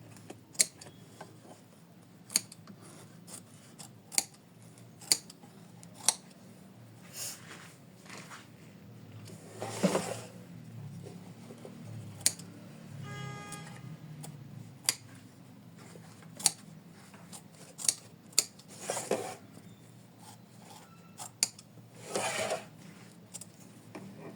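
Scissors snip at a mermaid bookmark in sparse, quiet clicks and small cuts, scattered irregularly with faint handling rustles in between.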